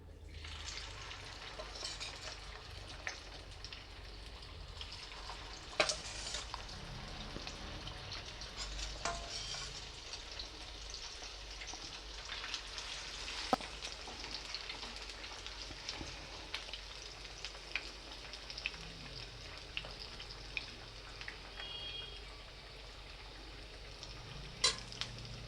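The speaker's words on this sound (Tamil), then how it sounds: "பாருங்கள் நல்லா வெந்துன்னு இருக்குது, நல்லா வேகுது பாருங்கள்" Cauliflower pieces for gobi manchurian deep-frying in hot oil, a steady close bubbling sizzle that runs the whole time with small pops and no talking.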